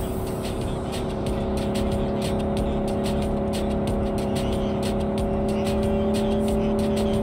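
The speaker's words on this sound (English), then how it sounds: "Drive, Jackie, just drive." In-game car in Cyberpunk 2077 driving off, a steady engine drone holding at constant pace with a faint rhythmic ticking over it, fairly close and continuous with no talk.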